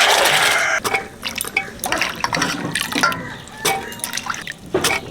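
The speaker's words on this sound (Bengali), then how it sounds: "জল দেব প্রেসার কুকারে জলটা দিয়ে দিলাম" Water is poured into a pressure cooker holding soaked chickpeas and potato, a splashing, gurgling fill with uneven bursts and drips, close and fairly loud.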